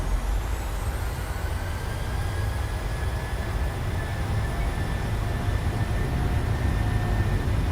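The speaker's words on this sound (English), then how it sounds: "Takeoff. And setting thrust." Airliner jet engines roar steadily in Microsoft Flight Simulator 2020 while thrust is set for takeoff, a loud broad rumble with a faint rising whine.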